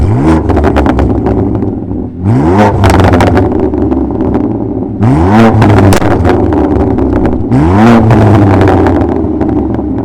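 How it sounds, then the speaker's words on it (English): A BMW F80 M3 engine with a Bootmod3 burble tune revs hard four times in repeated bursts, each climbing sharply and then dropping back to a throaty idle. Loud and close, with no talk. "I do have some revving so you guys can hear what it sounds like"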